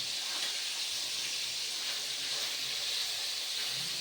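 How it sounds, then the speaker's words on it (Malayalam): Fish fries in a pan with a constant bright sizzle and hiss that stays steady and close throughout, no voices over it. "മീൻ വറുത്തത് റെഡിയായിക്കൊണ്ടിരിക്കുകയാണ്."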